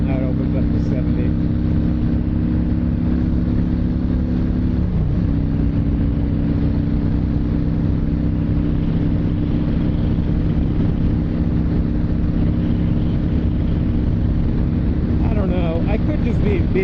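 A 2010 Honda Shadow Phantom motorcycle cruises at highway speed, its engine drone steady and loud beneath heavy wind buffeting, with a brief shift in pitch midway and occasional rider talk.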